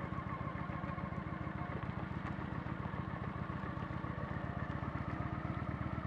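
A motorcycle engine running in Thailand, a steady rapid throbbing pulse with faint mechanical clatter, continuous and fairly quiet, no talk.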